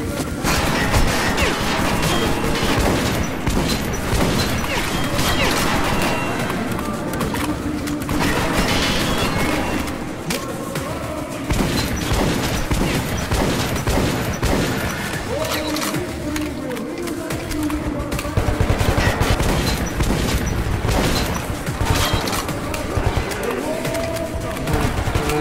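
Gunfire and combat noise from the video game Metro 2033 Redux build a dense, loud mix of shots, crashes and impacts, with a player talking over the chaotic action throughout.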